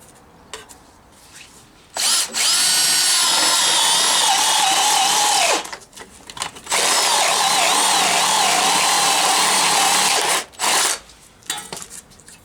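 Power drill boring a hole through a metal gearstick gaiter clamp for a Rover P6 V8: a loud, close, high whining grind in two long runs with a brief stop between, then winding down.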